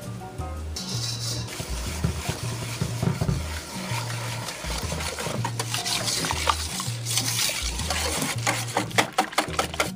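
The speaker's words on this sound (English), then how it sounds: "And now I'm just gonna whisk it all together." A custard mixture of eggs, vanilla and kosher salt is whisked in a bowl, making rapid rhythmic clicking and sloshing strokes that run continuously and grow busier toward the end.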